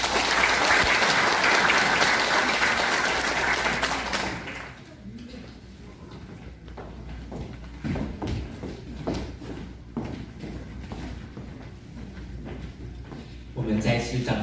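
Loud, dense clapping from an audience at a Taiwan Soka Association regional gathering fills the first four seconds, then drops to a quieter room with shuffling, knocks and murmuring before another swell at the end.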